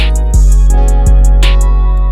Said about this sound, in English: I also bring in the open hat right here